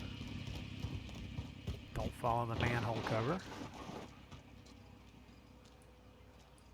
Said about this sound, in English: Man, it sounds like footsteps though.